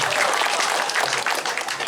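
An enthusiastic crowd claps at a Balinese comedy performance of Calonarang, a fairly soft but continuous patter of applause lasting the whole moment.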